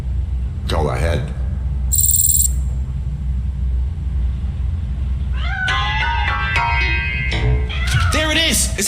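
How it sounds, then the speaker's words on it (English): A cat in the RoboCop: Rogue City video game lets out several loud meows and drawn-out wails over a constant low rumbling background hum, with brief bursts of other noises in between. "That cat must be hiding inside."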